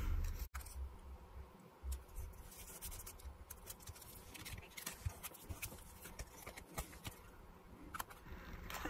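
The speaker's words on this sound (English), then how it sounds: "I'll have to trim it, but that's okay." Scissors trim paper up close in a crafting session, producing several quiet, sharp snips and scratchy cuts spread across a soft background.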